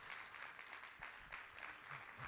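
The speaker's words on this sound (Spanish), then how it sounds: "Vamos a dar un aplauso mejor al Señor" A church congregation clapping steadily, soft and somewhat distant, a sustained patter of applause lasting a couple of seconds.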